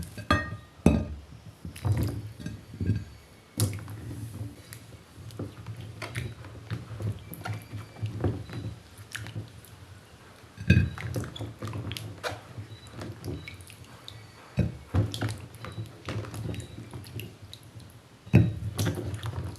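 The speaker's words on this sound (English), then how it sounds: "the first thing I'm going to be doing is to wash the carrots" Carrots being washed in water give irregular splashes, drips and wet squishing with occasional clinks of a bowl, close by and intermittent, with no talk.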